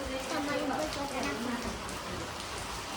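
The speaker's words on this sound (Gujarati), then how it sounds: "વાવાઝોડું વરસાદ" Storm rain falls in a continuous soft hiss, fairly faint, with voices murmuring in the background.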